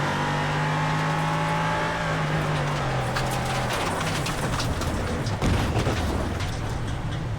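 An LMP3 race car in iRacing at VIR spins out, the engine note dropping from a steady drone into scrubbing tire noise and rough thumps, loud and close with no talk.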